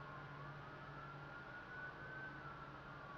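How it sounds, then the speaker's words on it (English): Distant emergency siren, taken to be a fire truck's, holds a steady wailing tone throughout, faint and continuous under a constant background hum with no talking. "It's got to be a fire truck."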